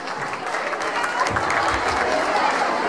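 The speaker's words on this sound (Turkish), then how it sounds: "Burada çalışan bütün personel için kocaman alkış istiyorum." A concert audience in Cologne claps for the venue staff, a dense, steady burst of applause filling the hall, fairly loud and continuous.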